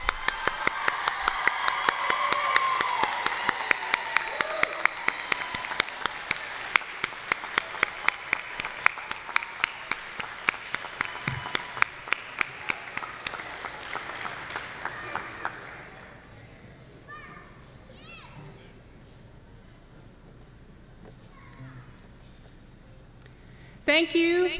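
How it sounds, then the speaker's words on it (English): Applause for a second group of GED graduates at a YWCA graduation ceremony, a long, fairly full round of clapping from the audience that holds for about fifteen seconds, then fades to scattered claps and quiet room sound. "And some applause for this second group of graduates."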